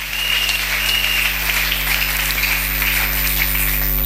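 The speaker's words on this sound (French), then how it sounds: "Si vous êtes là, acclamez encore très fort" A church congregation applauds during a worship service, sustained dense clapping that fills the room evenly and loudly with no break, a low hum running underneath.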